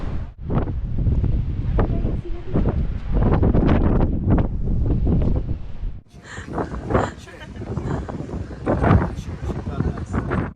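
Strong sea wind on the seafront in Alexandria, Egypt, buffets the microphone with loud, gusty rumbling that rises and falls throughout. People talk over it almost the whole time.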